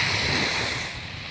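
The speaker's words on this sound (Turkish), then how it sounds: "Şu anda sahile geldim. Nefis bir sahil. Böyle esiyor." Wind blowing over a beach in Thailand with surf washing in, a brief steady roar of gusts and waves buffeting the microphone.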